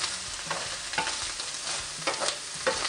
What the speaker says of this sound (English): So we're just going to cook this bacon over this high heat just for a couple of minutes